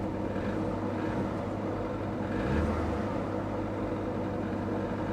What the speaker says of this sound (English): Give her another little rev.